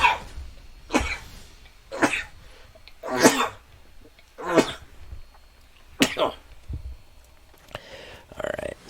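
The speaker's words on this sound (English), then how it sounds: "Oh, I gotta sneeze." A person sneezes and splutters nearby in a series of sharp, explosive bursts roughly a second apart, loud and close against a quiet background.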